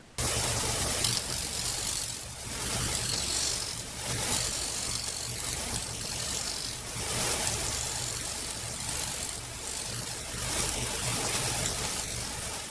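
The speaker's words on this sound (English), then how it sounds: "Now we want to go to the disc sander and sand that radius so this piece will fit in here." A disc sander grinds the radius of a plastic inset window for an organ pressure box lid, a continuous loud motor whir with steady rough abrasive noise and slight surges over the whole stretch, no talk.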